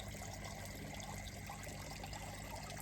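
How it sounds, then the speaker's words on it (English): Water pours steadily onto freshly planted carrot seeds in garden soil, giving a continuous close splashing and trickling hiss with no pauses and no voices. "And then I'm going to give it a good water in."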